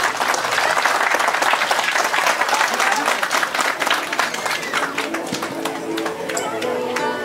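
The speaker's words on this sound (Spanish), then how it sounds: "Un fuerte aplauso para ella," Loud, sustained applause from an audience at a quinceañera celebration, dense clapping filling the whole stretch with a voice speaking over it.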